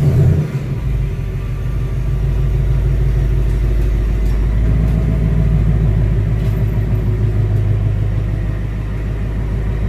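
A Ford Mustang GT engine idles close by with a steady, deep rumbling burble, running continuously and evenly with no voices.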